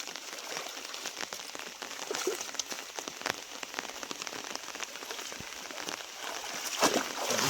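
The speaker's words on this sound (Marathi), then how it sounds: "सुरुवात तर झाली पावसाची." Rain beginning to fall beside a river, a steady soft patter of drops landing on surfaces with scattered sharper splashes, fairly quiet and continuous throughout with no voices.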